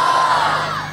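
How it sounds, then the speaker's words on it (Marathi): A crowd of women cheering and whooping together at a haldi-kunku gathering, one brief loud collective shout that starts strong and fades slightly, with no talk over it. "बघा आमच्या मायमाऊलींचा आवाज बघा"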